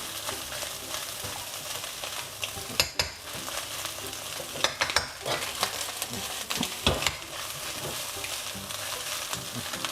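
Bacon fried rice made with sticky rice is tossed in a hot pan, a continuous close sizzle with scraping stir strokes and a few louder clanks of the utensil, no voices.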